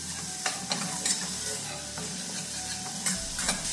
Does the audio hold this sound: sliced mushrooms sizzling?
yes